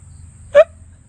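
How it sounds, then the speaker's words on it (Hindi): A single sharp hiccup, one brief loud burst standing alone over a faint low hum, with no other sound around it. "वो उसी से एक ध्वनि उत्पन्न होती है जिसे आप कहते हैं ये हिचकी है"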